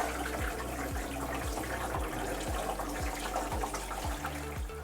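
A gallon of water pours steadily into the tank of a Vevor slushie machine, a continuous splashing rush with a repeating rhythmic knock beneath it.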